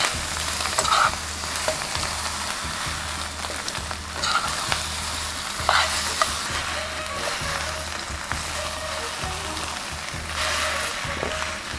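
Noodles with chicken being stir-fried in a pan produce a steady close sizzle with intermittent scraping and tossing strokes over a low rhythmic background hum, no talk.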